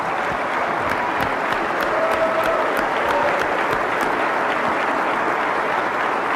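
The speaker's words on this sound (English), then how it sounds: "we'll give you a great big round of applause" Applause in the legislative chamber during the 2023 West Virginia State of the State Address: a broad, steady wash of clapping from a large crowd, sustained evenly and without speech.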